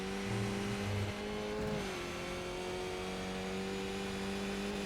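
A Skip Barber Formula 2000 race car engine drones loud and close at high revs under acceleration on track, its steady tone dipping briefly in pitch before settling back to a sustained whine.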